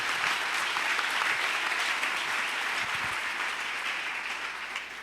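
A church congregation applauding during a worship service, sustained dense clapping from many hands filling the space, steady and loud before tapering slightly toward the end.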